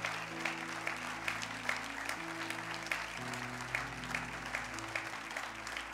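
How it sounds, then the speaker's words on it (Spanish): Children applauding their parents during a youth church service, scattered claps from a modest group over a sustained low musical backing, fairly quiet and steady for about six seconds. "Quiero que los hijos me le den un aplauso."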